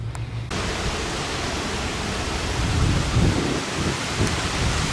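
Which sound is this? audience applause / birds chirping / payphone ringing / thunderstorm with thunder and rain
thunderstorm with thunder and rain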